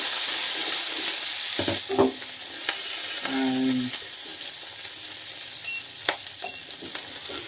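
Chopped chillies hit hot oil for a Bengali ghugni, giving a continuous frying hiss with a few scraping stirs and light clinks, fairly close and without talk.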